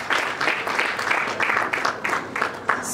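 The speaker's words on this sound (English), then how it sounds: "I think LNG deserves an applause." Audience applause for Nigeria LNG at a literature prize reception in Port Harcourt, a dense crowd clapping with a slightly pulsing rhythm, fairly loud and close, with no voices over it.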